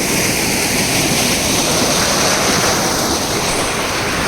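Steady, loud rushing water fills the scene without a break, a broad continuous roar like a fast stream or cascade close by.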